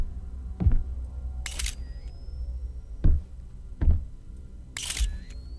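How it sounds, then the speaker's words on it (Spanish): Lighter in the horror video game Visage repeatedly failing to catch: several short dry flint clicks and scrapes, spaced unevenly, with two brighter bursts of sparking noise, close and moderately loud with no talk. "Y sigo sin poder prender el condenado mechero"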